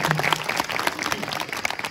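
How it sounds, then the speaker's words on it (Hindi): An audience clapping for a group of girls at a school Gandhi and Shastri Jayanti event, a steady, moderately loud round of applause with faint voices underneath. "इन बालिकाओं के लिए एक बार पहले आप तालियां बहुत अच्छे तरीके से बताओ"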